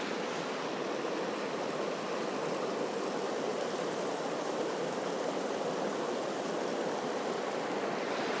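A stream at Lane Poole Reserve curls around a small bend and runs past rocks, giving a steady, close, continuous rush of flowing water with no voices.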